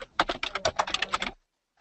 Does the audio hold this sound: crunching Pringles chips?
no